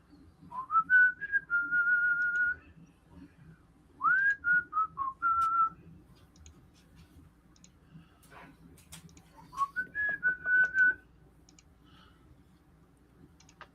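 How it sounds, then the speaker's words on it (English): A person whistles three short melodic phrases, each a rising note held briefly, separated by pauses with faint clicking in the background. "Oh, he hear me whistling?"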